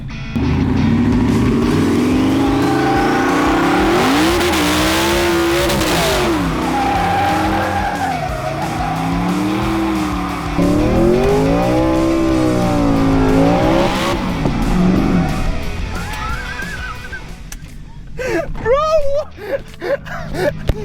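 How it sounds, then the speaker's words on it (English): A twin-turbo Ford Raptor R does a burnout, its engine roaring and revving hard with rising and falling tones as tires squeal and skid loudly for most of the stretch, then the noise tapers as short voices break in near the end. "Listen, this burnout is for Biff, okay?"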